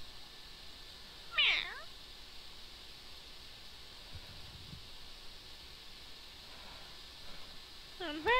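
A Meowth in the Minecraft Pixelmon game meows a few times, short high cat-like calls rising over a faint steady hiss, one clear meow early and softer ones later.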